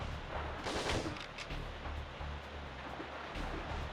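Gunfire in a retro first-person shooter, with enemies firing from the darkness, forms a dense, loud, continuous barrage of overlapping shots. A low rumble runs underneath and no one speaks.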